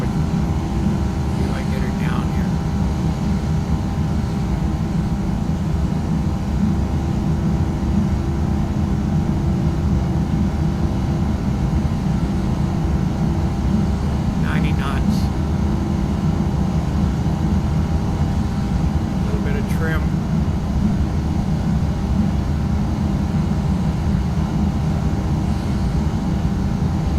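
Airliner on landing approach with two notches of flap in the X-Plane 11 flight simulator: a steady, loud engine and airflow drone runs throughout, with a few brief clicks and someone speaking over it.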